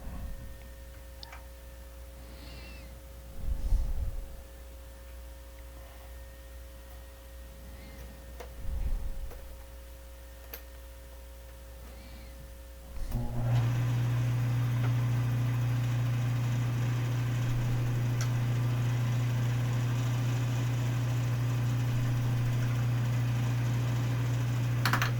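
A wood lathe with the tool rest set spins up after a few quiet knocks, then settles into a steady, loud motor hum with a low drone that continues alone for over ten seconds.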